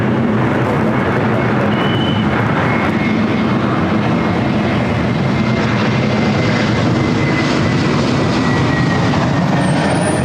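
An Aeromexico Boeing 787 Dreamliner airliner lands at LAX with a steady, loud engine roar that holds throughout without a break.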